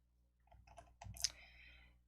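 A computer mouse clicking while drawing shapes in PowerPoint, a few faint, sharp clicks close by in an otherwise quiet room, the brightest click standing out near the middle.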